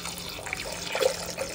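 Plain water is poured into a stone pot for rasam, a soft, close trickle and splash lasting a moment, quiet and without talk.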